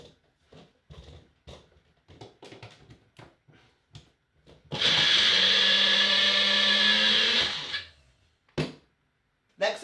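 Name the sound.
blender running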